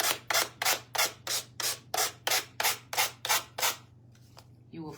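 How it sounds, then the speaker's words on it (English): A finger sander rubs the edges of a paper banner in about eleven even, rhythmic strokes, close and crisp, before falling quiet at the end. "Gonna take our finger sander and get those edges off."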